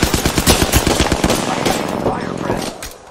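Rapid automatic gunfire rattles in a video game shootout, loud and close in a dense burst that trails off over a few seconds.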